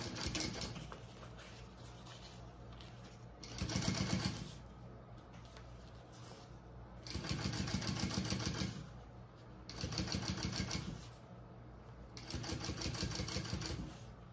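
A sewing machine runs in four separate bursts of top stitching on a waist pack, each lasting one to two seconds, with quiet pauses in between and no talking.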